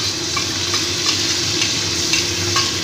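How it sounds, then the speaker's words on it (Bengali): Onion, garlic paste and ginger paste fry in a pan as the base for a yogurt katla fish curry, giving a close, continuous sizzle with faint stirring scrapes and small pops. "পেঁয়াজটাকে একটু ভেজে নিয়ে তারপর আমি এর মধ্যে একটু রসুন বাটা দিয়ে দিচ্ছি আর একটু আদা বাটা দিয়ে দিচ্ছি"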